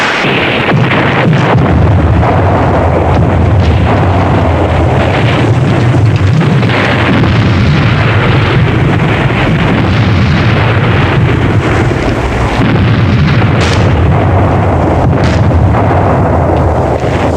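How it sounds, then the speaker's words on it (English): Loud, sustained artillery fire and explosions in a 1968 war film set in Manila, with heavy rumbling blasts and bursts overlapping continuously without pause. "They started firing on their own positions."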